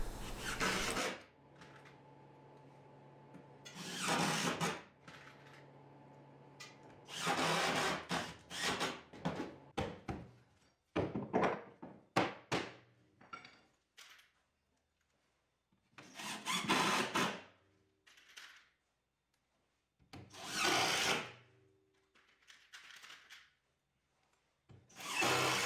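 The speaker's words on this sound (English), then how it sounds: "I'm going to just start adding screws to secure them together." A power drill driving screws through two layers of plywood on a welding table build, repeated whirring bursts of a few seconds each separated by pauses, with rubbing and clunks between them.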